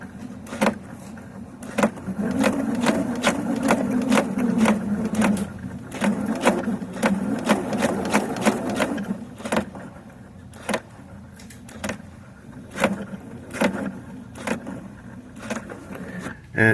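A Husqvarna Viking Sapphire 870Q quilting sewing machine runs with repeated sharp clicking and crunching knocks over a mechanical whir, close and fairly loud, the rhythm uneven with several pauses.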